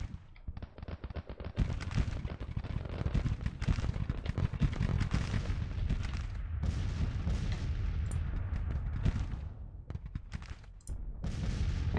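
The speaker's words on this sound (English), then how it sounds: "We'll make a nice line of cannon fire." Cannon artillery fire in the Grand Tactician Civil War strategy game rumbles as a dense, continuous run of low booms and cracks, layered volleys rolling on without pause.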